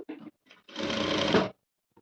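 A sewing machine stitches the back piece of a Chinese-collar blouse in one short, close burst of under a second, preceded by a few soft handling clicks.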